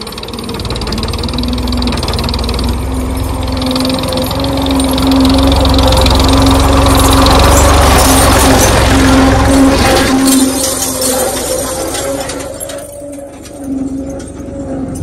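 A tractor engine runs loudly and steadily nearby with a low, knocking idle throb as it rolls over a mobile phone left on the ground, fading somewhat toward the end.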